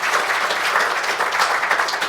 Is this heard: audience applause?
yes